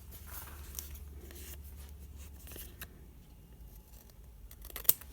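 Scissors trim craft fabric for an inlay project, giving a few faint, close snips over quiet room noise, with one sharper cut near the end.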